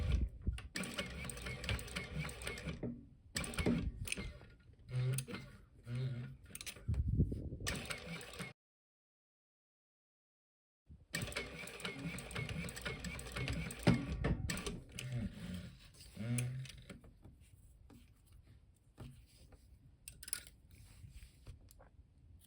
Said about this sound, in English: I'm going to backstitch at the beginning and the end of the seam. I'm sewing with a 3mm stitch length.